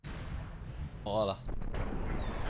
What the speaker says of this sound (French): Il y a plein d'explosions.